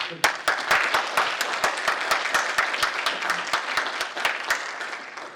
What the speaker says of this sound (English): And I think Josh Allen deserves a round of applause for this.